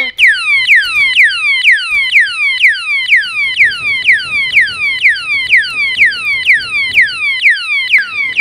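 An anti-theft alarm padlock blares loudly when touched, a piercing electronic siren of rapid falling whoops repeating in a steady, unbroken rhythm.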